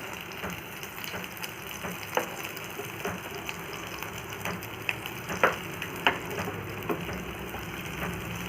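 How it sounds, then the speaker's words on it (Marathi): Sweet corn and oat patties shallow fry in oil with a continuous sizzle, broken by several sharp pops and crackles from the spitting oil, while no one speaks. "हे असे मी पूर्ण दोन्ही बाजूनी अलटून पलटून पूर्ण फ्राय करून घेणार आहे"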